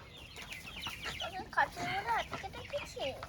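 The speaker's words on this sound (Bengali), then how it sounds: "অনেক মুরগি আছে যারা আস্তে আস্তে বড় হচ্ছে।" Chickens on a village farm in Santiniketan cluck and chatter in short, overlapping calls at close range, several birds sounding at once over a soft background.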